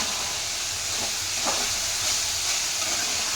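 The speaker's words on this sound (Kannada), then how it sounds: "ಆಲೂಗಡ್ಡೆ ಇಷ್ಟು ಹಾಕ್ಕೊಂಡು ಸ್ವಲ್ಪ ಫ್ರೈ ಮಾಡ್ಕೊಳ್ಳೋಣ" Potatoes with capsicum, beans and carrot frying in a pan for vegetable fried rice, a steady loud sizzling hiss that holds evenly for a few seconds with no voices.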